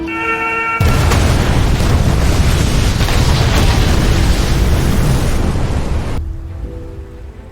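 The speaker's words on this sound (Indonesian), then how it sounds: "di sanalah Yi memerintahkan untuk melepaskan sebuah tembakan" A cannon fires with a loud explosive blast that swells into a long, heavy roaring rumble and then cuts off abruptly, a staged sound effect for the Battle of Myeongnyang naval fight, with no speech.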